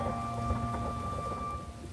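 Heavy rain pours with thunder rumbling underneath, a steady stormy wash used as a sound effect in a children's story about the ugly duckling, with no voices over it.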